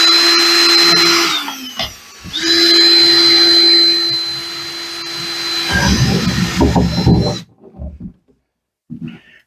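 Power drill boring a wire hole through thin plastic inside an RV motorhome shower, a steady high whine that cuts out briefly, then runs again for several seconds before stopping, followed by a few handling clunks.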